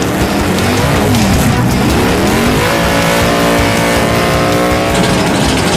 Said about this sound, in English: Sick ass burnout.